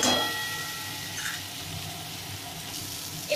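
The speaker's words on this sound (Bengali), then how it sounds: "আলুটা দিয়ে আরেকটু কষাবো আমি।" Potatoes and a bay leaf frying in a pan for peas ghugni, a steady close sizzle hissing without pause for a few seconds.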